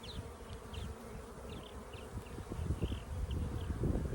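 A honey bee colony in an open hive buzzes as a steady, close drone, with individual bees flying past in short higher-pitched passes and no talking.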